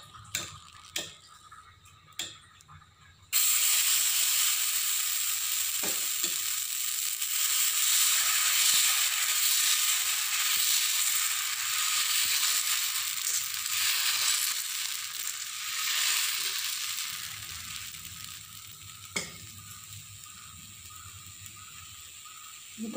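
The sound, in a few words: ragi dosa batter poured on hot griddle, sizzling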